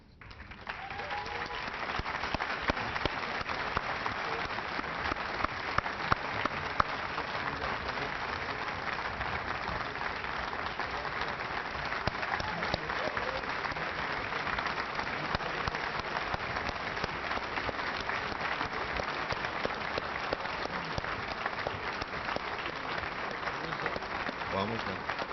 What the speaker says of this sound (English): let's have all of the awardees please return to the stage for another well-deserved round of applause